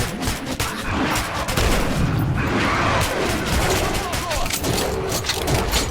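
Dense, rapid bursts of gunfire crackle continuously along with explosions in the video game Metro Redux, loud and chaotic, with shouting voices mixed in.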